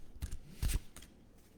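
A deck of cards is shuffled at close range, giving three short riffling bursts that are quiet and papery, with no voices.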